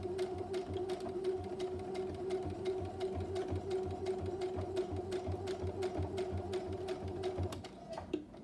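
A sewing machine stitches forwards and backwards in a quick, steady run of rhythmic ticking, fairly quiet and close, with a brief pause near the end.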